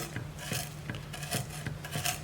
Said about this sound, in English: The onions, they're going to get finely diced. The garlic is being minced